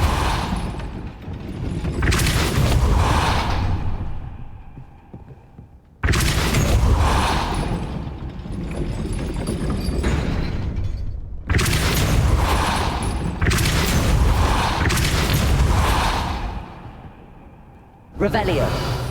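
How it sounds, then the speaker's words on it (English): In the Hogwarts Legacy video game, a gate mechanism rises after a Depulso spell, giving heavy booming rumbles and grinding mechanical surges in three long bursts with quiet gaps between them, loud and close. "That looks as if it might raise the gate."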